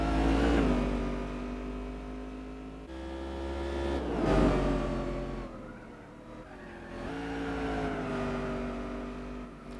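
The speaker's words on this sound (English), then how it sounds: "It's not amazing sound of this car, but it does sound a little bit like a V8" V8-like car engine in Gran Turismo 4 revving up and down in long rising and falling sweeps, a steady close in-game engine tone with one abrupt gear-like change early on.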